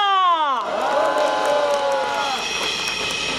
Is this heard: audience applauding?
yes